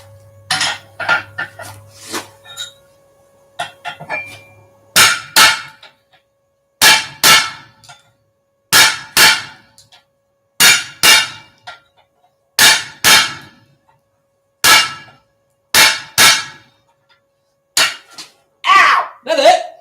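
A hammer rings out in sharp metallic strikes on a splitting plate laid over a blacksmith's anvil, arriving in a steady rhythm of single and paired clangs with lighter taps at the start.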